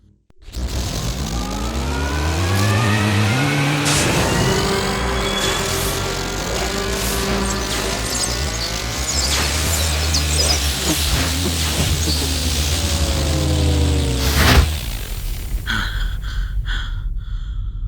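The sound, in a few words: spaceship SST drive engaging, audio drama sound effect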